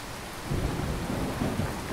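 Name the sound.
thunderstorm with thunder and rain in an audio drama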